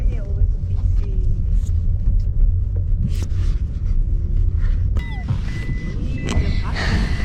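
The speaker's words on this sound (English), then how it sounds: "The bus is noisy." A noisy bus rumbles through busy Friday street traffic with cars passing, a steady low engine drone and scattered clanks and squeaks, close and continuous throughout.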